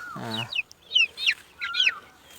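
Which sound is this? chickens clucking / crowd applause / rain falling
chickens clucking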